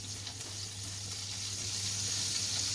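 Garlic sizzling and frying in a hot sizzler pan, a steady close hiss that holds at even loudness throughout with a faint low hum beneath and no talking.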